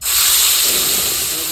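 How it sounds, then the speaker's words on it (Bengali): Onion paste hits hot mustard oil in a kadai, a loud, close, steady hissing sizzle that holds for over a second. "এই তেলে আমি দিয়ে দেবো পেঁয়াজ বাটা"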